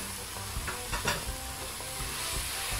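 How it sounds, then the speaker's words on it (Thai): Minced pork stir-fried in fried curry paste over medium-high heat, loud close sizzling with spatula scrapes and clacks against the pan, a steady crackling hiss throughout. "เสร็จแล้วก็ใส่หมูลงไปผัดเลยจ้ะ"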